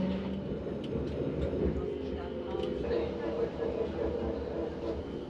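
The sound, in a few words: Belgian coastal tram running through Middelkerke streets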